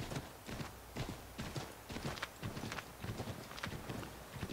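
A horse's hooves clip-clop at a steady walking pace in Assassin's Creed III, even repeated thuds with a faint game background and no speech.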